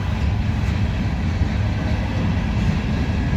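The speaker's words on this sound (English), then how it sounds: "there's the end of the train." A continuous loud rumble and roar of a Norfolk Southern mixed freight train rolling past nearby in Fostoria, Ohio, dense and steady throughout with no pauses.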